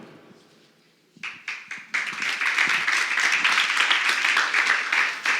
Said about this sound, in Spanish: Ese aplauso es para el Señor, es para el Señor.